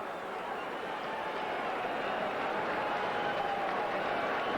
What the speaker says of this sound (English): Every time a Mets pitcher gets 2 strikes, especially Dwight Gooden, they get into the pumping and clapping of the hands, calling for the strikeout